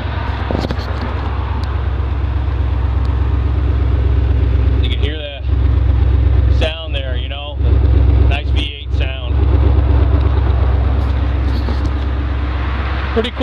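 A 1980 Porsche 928 V8 runs with a loud, steady low rumble, broken by a few brief dips and bursts of revving midway, while someone talks over it nearby.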